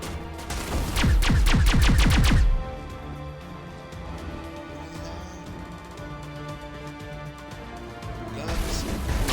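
A loud, close burst of rapid automatic gunfire during the Virmire mission of the Mass Effect video game, two seconds of evenly spaced shots, then a lull filled with low ambient rumble before firing starts again at the end.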